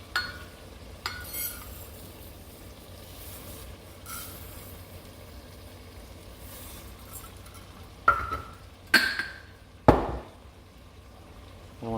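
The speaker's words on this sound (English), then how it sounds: "I want to stir it in there and get it coated in the oil and all the drippings there" Two cups of rice stirred into hot oil and vegetable drippings in a pan for red rice, giving a low steady sizzle broken by a few sharp scraping clatters of the spoon near the end.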